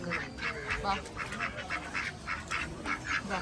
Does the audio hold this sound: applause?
no